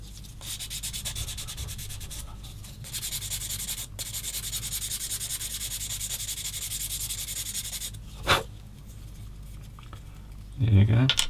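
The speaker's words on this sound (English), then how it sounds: "I can actually give them a little swipe with the sander" A hand sander works a small plastic part for a 1/35 scale Schwimmwagen model kit, giving a close, continuous rasping scrub across several seconds with brief pauses and a louder scrape near the end.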